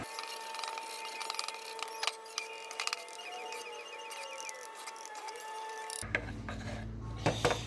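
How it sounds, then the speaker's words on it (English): A mixing stick scrapes and stirs epoxy near a wood lathe in a woodturning shop, giving repeated gritty rubbing strokes over a steady tonal hum, with a louder rumbling shift near the end. "You get your fancy mixing stick here and mix it up."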